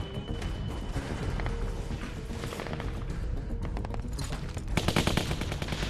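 Rapid machine-gun bursts in The Walking Dead: Season 2 game, a steady crackling stream of shots amid battle noise, growing denser and louder near the end.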